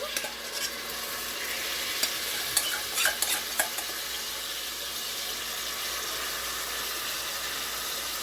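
Onions, paneer and marinade frying in a pan for paneer korma, giving a steady close sizzle throughout with a few brief stirring clinks and scrapes in the middle.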